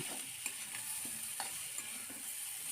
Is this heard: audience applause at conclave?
no